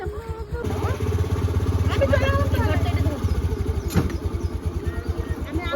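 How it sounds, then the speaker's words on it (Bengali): A motorcycle starts up and idles with a rapid, throbbing putter close by, while voices talk over the engine. "দাদুর বাইকে করে আমি আসছি"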